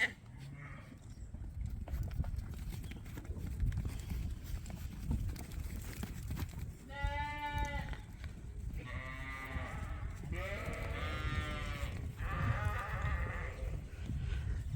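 Several sheep bleat one after another in the middle and later part, wavering cries over steady outdoor rumble and wind.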